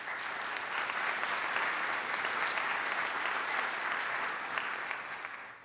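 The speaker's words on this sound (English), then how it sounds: "but to give them a round of applause as well." Sustained audience applause for faculty at a graduate hooding ceremony, a broad, even wash of clapping from a large crowd that holds steady for several seconds before easing slightly.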